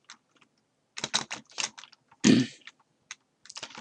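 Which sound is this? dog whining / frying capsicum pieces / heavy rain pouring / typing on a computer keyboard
typing on a computer keyboard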